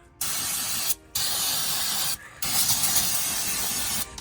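Cleaner sprayed onto the engine of a 2001 Lexus ES300: four close, loud hissing bursts of spray, each lasting about a second, separated by brief pauses, with no talking.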